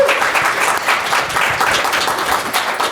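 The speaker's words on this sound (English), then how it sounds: "Can we please just give another round of applause?" A town hall audience at a community event claps in a steady, dense round of applause that holds at an even level for the whole stretch.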